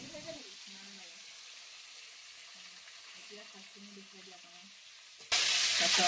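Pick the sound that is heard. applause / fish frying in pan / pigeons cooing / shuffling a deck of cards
fish frying in pan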